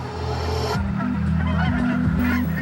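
Geese honk in a rapid run of loud nasal calls, several overlapping voices close by for a couple of seconds, with no talking.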